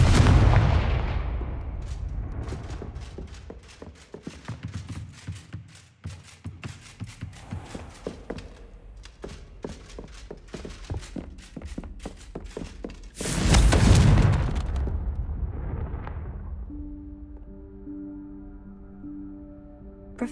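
Confringo blasting spell going off in the video game Hogwarts Legacy, with a burst of repeated blasts and thuds, a loud broad explosion midway, then a fading rumble with tonal game music.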